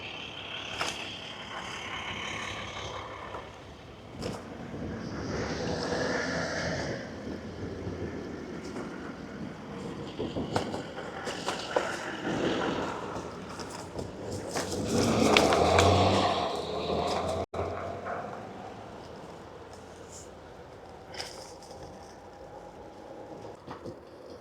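Road traffic rumbles and swells past while riding a Gududobu K10 electric scooter, with wind noise and a loud surge of passing vehicles midway, continuous and fairly close.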